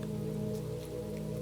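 Soft steady drizzle pattering on surfaces, a continuous gentle hiss with a low hum beneath it, fairly quiet and unbroken, with no voices.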